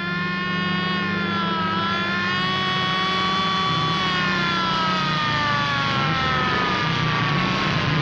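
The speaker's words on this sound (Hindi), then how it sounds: "और ये सायरन है, ये कर रही है पुलिस हवा से बातें।" A police siren wails loud and close, a steady rising-and-falling electronic tone that holds unbroken throughout with no voices.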